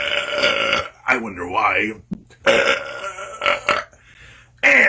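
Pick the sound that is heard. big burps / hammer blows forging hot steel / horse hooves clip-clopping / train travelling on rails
big burps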